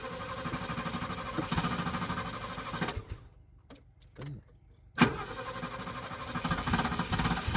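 Cold 1979 BMW 520/6 E12 with a carburettor and automatic choke cranking: a loud, buzzing churn breaks into a short near-silent pause with a few coughs, then catches again with a sharp burst into a steady running drone.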